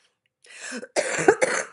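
A person coughs a few times close by, after a brief silence, with harsh bursts in quick succession.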